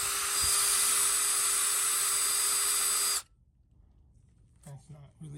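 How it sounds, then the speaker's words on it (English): A power drill whines loudly and steadily for about three seconds while boring out a hole in a Honda CR-V AWD shifter cable part, then cuts off abruptly, followed by quiet room noise and a brief voice. "this is the size we need to get this hole drilled out to"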